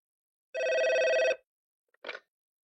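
A single telephone ring sounds clearly for about a second, followed after a short pause by a brief fainter burst, with no talking.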